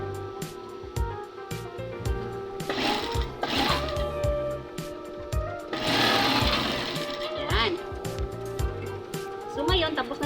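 A sewing machine runs in bursts, basting pleats on a skirt, its motor whirring with a rapid stitching rhythm that stops and restarts, close and fairly loud, while a voice talks over it.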